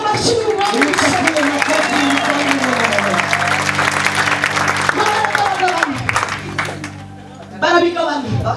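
Large crowd applauding steadily at a church gathering, dense clapping that holds for most of the span, dips briefly, then swells again, with voices and singing mixed underneath.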